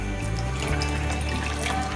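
Water poured steadily into thick rava dhokla batter gives a continuous, even, trickling wash that runs at a constant close level for the whole stretch.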